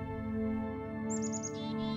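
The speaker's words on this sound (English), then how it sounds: "Jipjawej is the robin." An American robin sings a brief run of clear chirping notes over a loud steady musical drone, sounding thin and somewhat distant.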